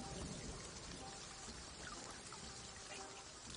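Steady rain falling in the pirate video game Sea of Thieves, a continuous even patter and trickle of water that stays constant throughout with no talking.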